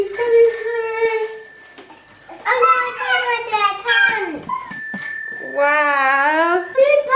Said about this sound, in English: you press the bell to let Mummy know